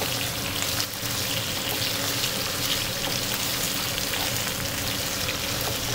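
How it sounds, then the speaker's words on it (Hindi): Raw banana pieces fry in mustard oil, giving a dense, continuous close sizzle that stays even from start to finish with no talk. "कुछ देर के लिए इसे दोनों तरफ से फ्राई करना है"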